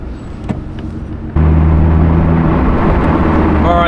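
Nissan GT-R R35 driving, with quiet cabin rumble that suddenly jumps to a loud, steady engine drone with low tonal hum partway through, heard from inside the car.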